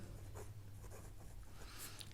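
Pen or pencil scratching on paper during a math lesson on triangle types, a faint, steady scratchy rustle with short strokes throughout.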